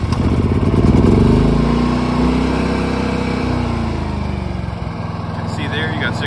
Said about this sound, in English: show you the Predator generator here. Can get this to fire up.